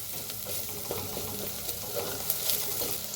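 Spices roasting in oil in a pan for a bitter gourd dish, a steady soft sizzle with light stirring scrapes and small crackles throughout, close and moderately quiet.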